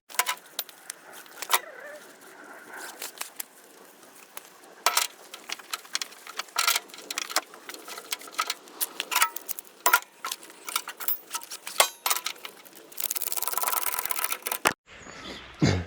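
A car is strapped down onto a recovery truck's bed for an emergency recovery on the Isle of Bute: close, irregular ratcheting clicks and jangly metallic rattles of straps and hooks, ending in a brief pause, with no talking.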